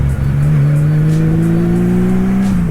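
A motorcycle that has sat unused for a few days revs while still not fully warmed up, its loud steady engine drone rising slowly in pitch and holding near and continuous throughout.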